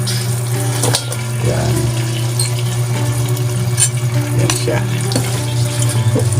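Tenderized chicken for a spicy chicken dish sizzles loudly in a pan, a close continuous frying hiss with scraping stirs and soft clinks of the utensil, nobody speaking.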